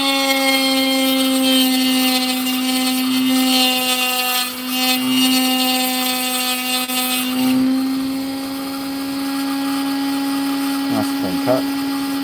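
Power tool cutting out a crack, a loud steady high-pitched whine with a strong tonal hum that shifts in pitch partway through, ending with a few short scraping touches near the end; talk is heard.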